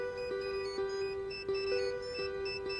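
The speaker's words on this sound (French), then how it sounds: "Ton téléphone sonne." A phone rings indoors, a steady electronic ringtone with evenly repeating bursts, loud and close, with no talk over it.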